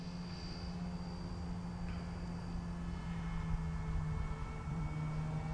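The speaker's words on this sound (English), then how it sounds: "and watch this motor. Look at that. Just a bat out of hell." An RC Airbus A320 model airplane's electric motor runs at low speed, a steady whining drone with faint tonal hum held at an even level the whole time, moderately distant and with no talking.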